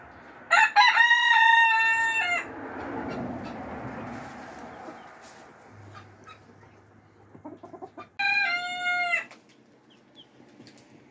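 Backyard chickens cooped up together crow and cluck, with two loud drawn-out rooster crows near the start and end and softer clucking and rustling between them, close by.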